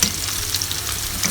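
Salmon with garlic sizzles in a hot pan, a steady close crackle of frying oil with small pops throughout the short stretch.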